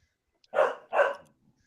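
A dog gives two quick, close barks about half a second apart, loud and clear against near silence.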